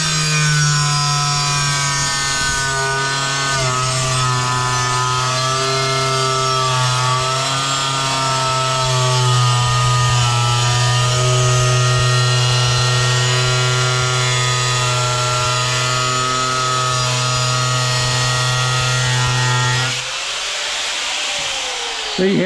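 Angle grinder cutting through a scored ceramic tile with a wet sponge, a loud, steady high-pitched whine that holds for about twenty seconds before cutting off sharply.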